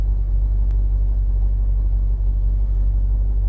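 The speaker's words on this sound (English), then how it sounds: "At least that's an advantage by driving a Corvette. It's significantly more noisy than the drone is." A Chevrolet Corvette engine runs steadily, giving a loud, continuous low rumble with no breaks and no voices.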